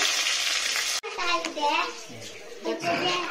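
Fish sizzles as it fries in hot oil in a home kitchen, a steady crackle under close talking voices, cut by a short break before resuming with stirring.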